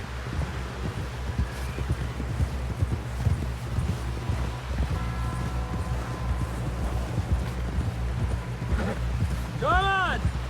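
Galloping horse in the Red Dead Redemption 2 game, rapid clip-clop hoofbeats drumming steadily throughout over wind and a low rumble, with a brief whinny near the end.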